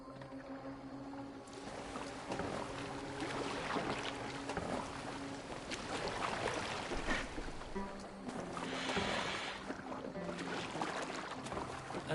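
Boat travelling over water in Assassin's Creed Valhalla, a steady wash of water and wind with creaking, low tonal hums running throughout.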